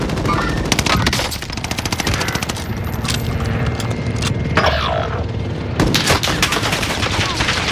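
AS-44 rifle fire from Call of Duty Warzone, loud continuous rapid bursts of automatic gunshots with dense echoing reports throughout, no clear talk.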